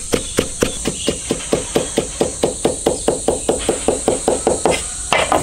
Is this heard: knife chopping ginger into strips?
yes